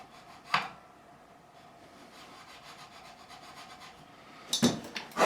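A file rasps across a guitar nut slot during a Jaguar/Jazzmaster-style build and setup, a faint steady scraping bed with a couple of sharper strokes near the start and end, close and without speech.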